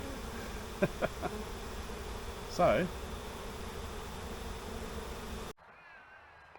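Bees hum around an open beehive full of burr comb, a steady low drone with a few brief sharper buzzes close by, under a single short spoken word, then it cuts to quiet.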